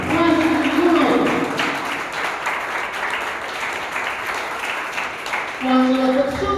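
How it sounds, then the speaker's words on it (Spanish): A church congregation claps together in a burst of applause that swells and fades, with a voice speaking over the clapping at the start and again at the end. "Denle ese aplauso para él."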